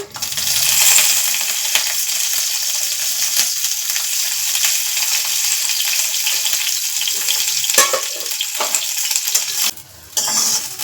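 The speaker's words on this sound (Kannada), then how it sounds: "ಎಣ್ಣೆ ಹಾಕಿ ಹುರ್ಕೋಬೇಕು ಹೆಂಗೆ ಹುರ್ಕೋಬೇಕಂದ್ರೆ ಅವು ಪೂರ ಮೆತ್ತಗಾಗಬೇಕು" Vegetables frying in oil in a pan for a palya side dish, a loud continuous close sizzle with occasional clinks and stirring scrapes, briefly dipping near the end.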